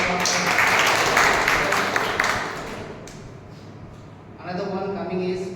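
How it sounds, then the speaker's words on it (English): An audience at a Toastmasters meeting claps in a dense burst of applause for a couple of seconds, fading out before a voice speaks. "Can you have a round of applause?"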